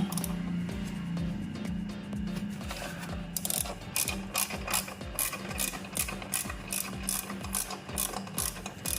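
A ratchet wrench loosens bolts on the brake of a Yadea T9 electric scooter, its pawl clicking in quick, rhythmic bursts with a low mechanical rattle, close and continuous.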